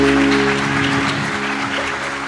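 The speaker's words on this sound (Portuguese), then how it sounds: "Você pode dar uma salva de palmas para o Senhor?" Church congregation applauding together during a worship service, a steady dense wash of clapping under a sustained musical drone, continuous throughout.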